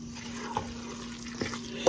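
Liquid poured into a cornbread dressing mixture, a faint, soft watery trickle over a low steady hum, with a few small splashes and no talking.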